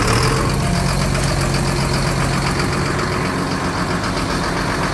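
Engine of a car or field sprayer running after being started by jumping the starter solenoid, a loud, close, steady idle with a low rumble throughout.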